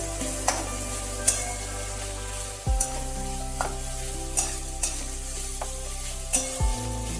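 Bitter gourd fries in a pan with a constant close sizzle, punctuated by a regular series of sharp spatula taps and scrapes roughly every second as it is stirred.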